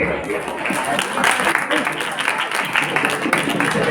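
An audience at a motivational address applauds with a steady, dense patter of many hands that holds for about four seconds, while voices carry on over the clapping.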